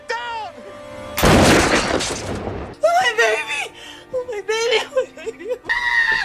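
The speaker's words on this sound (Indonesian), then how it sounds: "terpaksa melepaskan tembakan" A single loud gunshot bursts out as a broad blast with a ringing tail, followed by frantic shouting and screaming voices after the shot.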